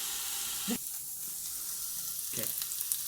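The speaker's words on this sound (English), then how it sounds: "we'll be right back as soon as the other side is done browning" A beef roast browning in an Instant Pot, a steady close sizzle and hiss throughout, with a couple of brief scraping or shuffling sounds as the meat is moved, no talk.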